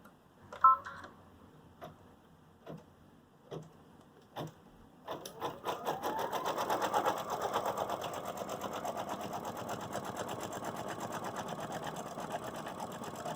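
Digitized embroidery machine sewing underlay and fill stitches: a few isolated clicks at first, then a rapid, steady mechanical stitching chatter that runs on continuously, close and fairly quiet.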